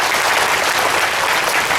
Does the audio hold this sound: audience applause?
yes